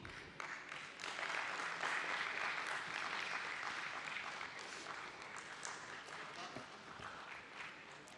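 An audience claps continuously at a Bombay Stock Exchange listing ceremony, the dense applause swelling after the first second and holding steady, then thinning slightly toward the end.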